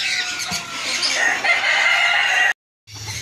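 A Silkie rooster crows loudly and close, a long strained call that cuts off abruptly, followed by a moment of silence and faint background noise.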